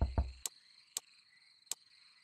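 Frogs in the video game Loveland give three sharp, evenly spaced calls that ring out alone against near silence. Two low thumps come before them.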